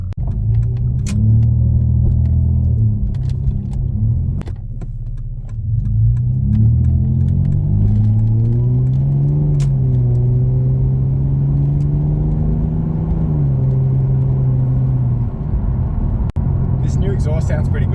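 A Ford EF XR6 Falcon's exhaust drones low and steady while cruising in third gear at about 80 km/h, rising gently in pitch as the engine pulls, with someone talking over the rumble throughout.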